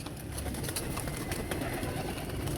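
Pigeons near a mosque coo continuously in a steady, busy outdoor murmur, with soft repeated calls layered over dense background noise and no clear speech.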